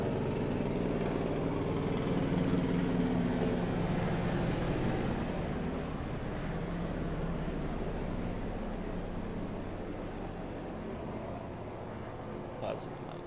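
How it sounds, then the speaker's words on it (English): A low, steady rumble of a helicopter hangs in the background, droning continuously and slowly fading as it moves off. "There's a helicopter that was flying by."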